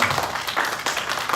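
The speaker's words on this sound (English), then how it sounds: "Everybody just give them a hand clap right now." Church camp audience applauding, a dense, steady wash of many hands clapping close by for the full moment, with no talk over it.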